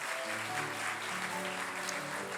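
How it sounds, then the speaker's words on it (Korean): A Korean church congregation applauds warmly during a Sunday service, a soft, steady patter of clapping with sustained instrumental tones from music playing underneath. "우리 귀한 부부랑 우리 연서 나올 때 따뜻한 박수로 맞이해 주시면 감사하겠습니다"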